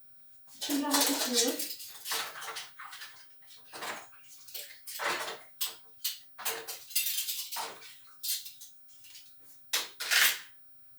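Dishes and cutlery clatter and scrape in irregular bursts, with plates knocking together as they are stacked, fairly close and moderately loud.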